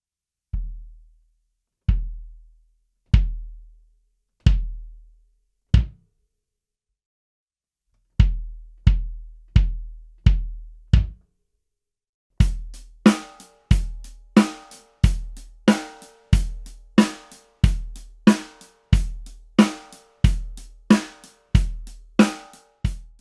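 A minimally muffled bass drum is struck alone in evenly spaced single hits, each a deep boom with a short ring, followed by a denser run of quicker strikes that carry a brighter, rattling attack.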